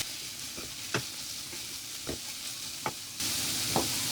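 Cabbage and chicken mixture frying in a pan, a steady sizzle with a few sharp stirring scrapes spaced about a second apart, turning noticeably louder and brighter near the end.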